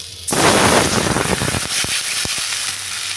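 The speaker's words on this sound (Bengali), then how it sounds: "এবার এর মধ্যে আমি দিয়ে দিচ্ছি জল।" Water is poured into a hot pan of turmeric-fried potatoes for a rohu fish head curry, a sudden loud hiss and sputter that softens into steady bubbling with a few sharp crackles.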